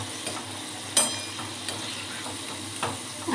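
Corn bhaji frying in hot oil, a steady bright sizzle and crackle throughout, with a few soft clinks and stirring knocks from turning the fritters.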